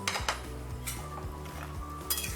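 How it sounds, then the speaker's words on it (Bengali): Bori, fried lentil dumplings, stirred in a pan while making shukto, with a spoon clinking and scraping against the metal in a steady rhythm under a background musical tone, close and moderately loud, with no talking. "দিয়ে একটু নেড়ে নিলাম"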